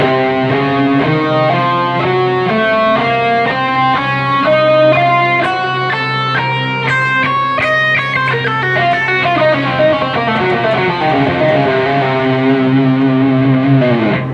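A distorted electric guitar plays a steady run of single notes climbing and falling through a scale, loud and sustained with no talking.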